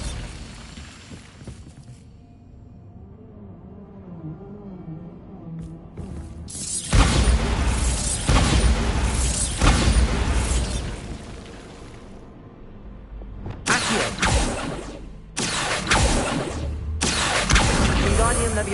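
Bombarda blasting spells detonating in Hogwarts Legacy: loud, broadband booming bursts that come in several heavy waves with short gaps between them, following a quieter stretch of game ambience and music.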